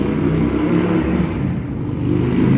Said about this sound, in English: that motorcycle's very loud